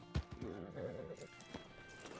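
Horse in Red Dead Redemption 2 gives a loud whinny while hooves clip-clop, with a sharp thud at the start and game sounds around it.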